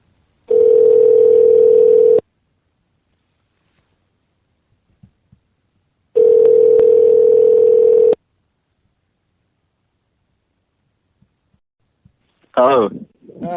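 Telephone line tone during a phone call to a Celtic fan phone-in show: two steady, loud two-second beeps separated by silence, followed by a brief burst of voice at the end.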